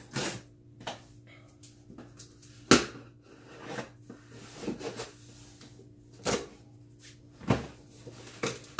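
A Jordan 4 shoe box, taped on top, is popped open, giving several sharp cardboard clicks and rustling handling sounds spaced across the stretch, close and moderately loud against a quiet room with a faint steady hum.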